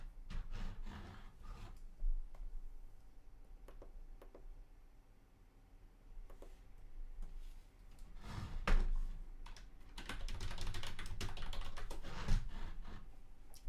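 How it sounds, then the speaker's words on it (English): Close, fairly quiet keystrokes tap irregularly on a computer keyboard, coming in bursts with brief pauses and a faint room hum behind them. "Sorry if you hear me typing."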